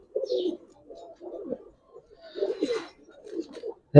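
Giribaz pigeons coo nearby in short, throaty bursts, about five murmuring phrases with brief pauses between them. A faint higher rustle or chirp rises near the middle.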